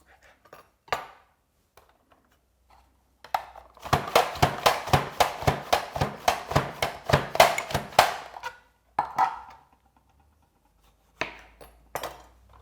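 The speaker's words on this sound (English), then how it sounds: "The firmer the tomato, the better it slices." A knife slices firm Roma tomatoes on a cutting board in a quick, even series of about twenty close, crisp chops, with a few isolated knocks before and after the burst.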